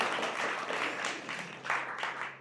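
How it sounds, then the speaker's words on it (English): Brief applause for the organisers at a programming meetup, a small crowd clapping in uneven bursts that rise and dip over a couple of seconds. "I would also like a big round of applause for Wojciech and Patrick"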